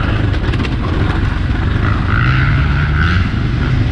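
A 2020 KTM 500 XCF-W dirt bike engine drones steadily while being ridden on trails at Crow Canyon, a loud continuous roar with slight rises in pitch, heard close with wind noise.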